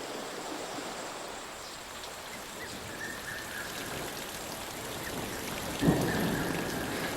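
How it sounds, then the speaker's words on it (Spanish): Rain falls steadily in humid weather on a South African mountain, with low thunder rumbling throughout and a sharper, louder crack near the end; no one speaks. "el día ha pasado de ser claro y caluroso a realmente húmedo y se oyen truenos"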